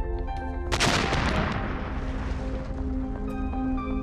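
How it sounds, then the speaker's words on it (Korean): A cannon fires a cannonball with a sudden loud boom followed by a long rumbling, decaying roar, set against a sustained tonal musical background. "대포에서 포탄을 발사하면 적당한 거리를 날다가 지구로 떨어집니다."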